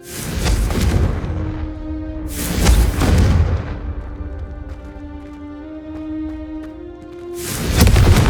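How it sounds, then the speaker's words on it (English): A Confringo fire spell from the Hogwarts Legacy video game goes off in a series of deep, booming blasts, three heavy bursts with tonal ringing tails in between, loud and close. "I think you'll find that a Confringo cast... Confringo!"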